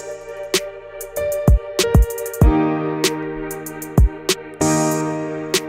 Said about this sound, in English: To finish up the drums, we had the kick, and it had a pretty straightforward pattern